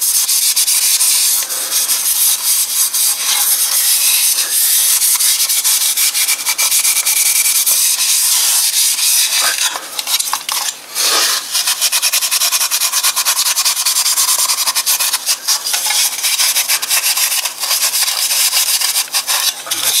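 Abrasive pad or paper scuffing a plastic panel from a Jinlun 125 Chinese motorcycle before priming, a steady, loud, close-up rubbing that runs continuously with only brief pauses in the strokes.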